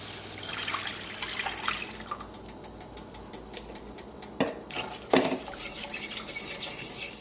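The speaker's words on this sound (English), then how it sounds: "Now I'm adding 3 cups of milk." Milk is poured into a flour mixture, then stirred for a penne and cheese sauce. A steady liquid wash runs throughout, with a few sharp utensil clinks against the pot near the end. No one speaks.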